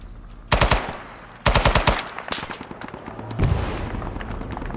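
Airsoft gunfire during a milsim operation: two loud close bursts of rapid automatic shots, then scattered single pops and a dull thump amid rustling outdoor noise.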